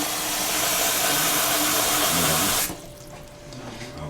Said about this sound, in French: Alors je mets un peu d'eau dans le plat